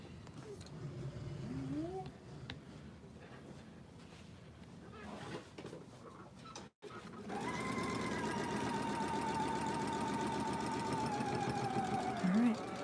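A sewing machine runs the last seam of a LeMoyne star quilt block, a steady close mechanical whir taking up the second half after a brief stop, with faint talking and handling noises earlier.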